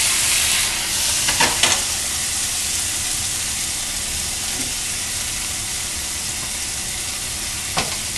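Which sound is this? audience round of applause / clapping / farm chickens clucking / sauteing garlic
sauteing garlic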